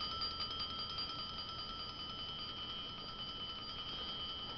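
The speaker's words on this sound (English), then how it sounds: "This is standard Franklin's Bell, basically. But it runs on a capacitor." A Franklin's bell powered by a capacitor rings steadily on its own, a continuous, fairly faint metallic ringing with sustained tones and no voices.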